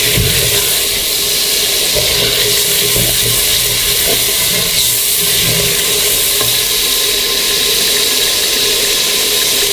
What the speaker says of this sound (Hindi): थोड़ी देर हम मसाले को भूनेंगे।